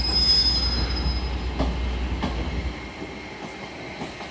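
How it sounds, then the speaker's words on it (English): An LNER Azuma Class 800 train departs Carlisle station, its wheels squealing with a thin high whine while a low rumble rolls under a few faint rail clicks before it fades away. "Departing now is 800-103, working the 1240 LNER Azuma service from Edinburgh Waverley via Carlisle to London King's Cross."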